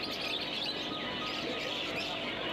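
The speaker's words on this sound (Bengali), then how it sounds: "এখানে দেখতে পাচ্ছেন বেশ কিছু জেবরা ফিঞ্চ" Zebra finches chirp and twitter in a dense, continuous chorus at the Garia exotic bird market, a busy high-pitched chatter of many small birds with a steady background hum.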